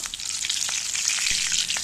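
Fish roe fritters frying in hot oil in a pan make a steady, loud crackling sizzle with scattered sharp pops, close up and with no voices.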